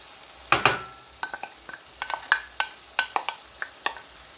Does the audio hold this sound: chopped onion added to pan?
yes